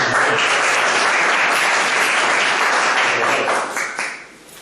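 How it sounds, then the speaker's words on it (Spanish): Audience applause at a workshop event, a dense, steady wash of many hands clapping near and loud, holding evenly before tapering off toward the end. "un aplauso"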